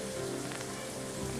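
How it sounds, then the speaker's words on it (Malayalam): Heavy rain falls steadily and densely for the whole moment, a constant close wash of drops hitting surfaces with no pauses and no voices. "ഞാനിത് വോയിസ് ഓവർ കൊടുക്കുന്ന സമയത്ത് നല്ല മഴയുണ്ട്."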